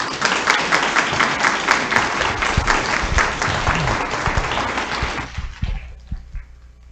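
A seated audience at a lunchtime history talk applauds the panelists, dense continuous clapping that holds for several seconds before thinning out to a few scattered claps and quiet.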